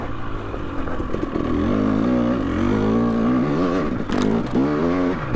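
A two-stroke dirt bike engine, a Yamaha YZ250X or KTM TPI, revs hard while riding, its pitch rising and falling in wavering sweeps, loud and close, with a sharp blip near the end.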